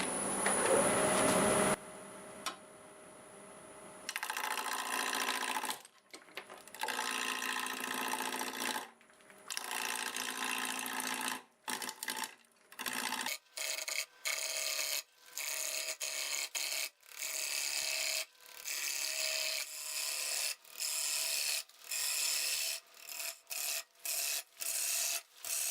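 A 5/8 bowl gouge cuts a piece of myrtle wood spinning on a lathe at about 880 RPM, giving a close, harsh scraping hiss broken into many short bursts with brief gaps between them.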